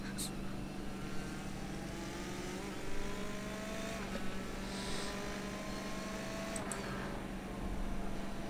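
A racing car engine in a sim racing game at the Nürburgring GP circuit drones steadily with rising and falling pitch as it shifts through gears, with faint other cars in the background.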